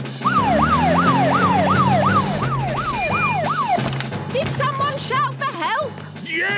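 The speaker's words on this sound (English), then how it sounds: "To the police car!" A cartoon police car siren wails in a steady rising-and-falling rhythm for several seconds, loud and close, then gives way to children's cartoon voices talking over music.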